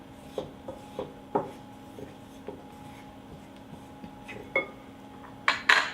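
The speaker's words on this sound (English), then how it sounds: "I'll now add it to the flour, mixing it well." Honey mixture being worked into flour in a bowl: scattered scraping and tapping strokes of a utensil against the bowl at an irregular pace, close, with a couple of sharper clinks at the end.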